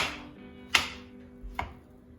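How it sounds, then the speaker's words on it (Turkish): Two sharp knife chops through potatoes on a board, spaced apart, in a quiet room with no talking. "Şimdi patateslerimizi küp küp doğrayalım"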